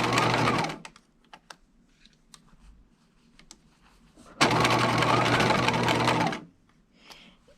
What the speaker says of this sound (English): So now we're ready to baste the collar to the facing. So I've got my machine on a nice long stitch length.